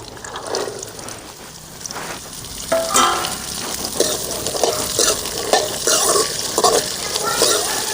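Onions sauté in hot oil, a close sizzling hiss broken by repeated stirring scrapes and clinks of a utensil against the pot, with no speech.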